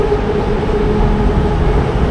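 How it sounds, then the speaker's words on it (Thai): A train passes nearby in Thailand with a loud, steady rumble and a faint droning hum, continuous and without speech. "นั่นคือรถไฟประเทศไทย"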